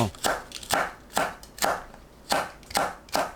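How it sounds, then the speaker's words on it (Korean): A knife chops green onion, chili pepper and mushrooms on a cutting board in eight crisp, close strikes at a steady rhythm, each a short thud-and-slice with quiet gaps between. "파, 청양고추, 버섯 썰어주세요."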